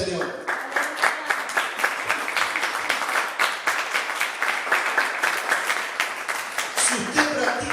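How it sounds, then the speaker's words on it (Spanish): A church congregation applauds during a Sunday service, a sustained run of rhythmic clapping from many hands at moderate distance, with a voice speaking over it. "Vamos, denle un aplauso al Señor."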